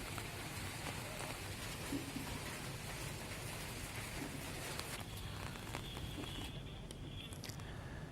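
Heavy rain and hail hammer down in a dense, steady roar that holds constant throughout, with no clear voices.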